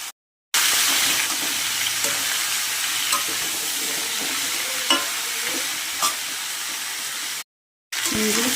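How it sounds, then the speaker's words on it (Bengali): Vegetables sizzle steadily in a wok tempered with five-spice (panch phoron), chilli and bay leaf, with occasional stirring clatters standing out over the continuous frying; no one speaks. "সবজিগুলো ভালো করে ভেজে নিয়েছি।"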